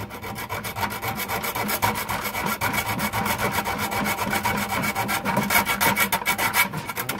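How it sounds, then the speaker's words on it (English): A small hand saw rasps back and forth through wire for a homemade mousetrap, producing a steady, close, gritty scraping rhythm of quick strokes with no talking. "But I'm just going to use my little trusty saw right here"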